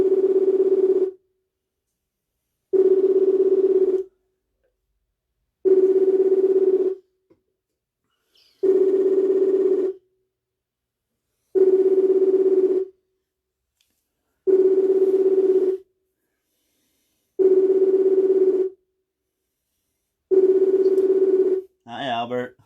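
A telephone ringing on an outgoing call: eight evenly spaced tonal rings, each about a second long with long silent gaps, loud and clear, followed by a brief burst as the line connects.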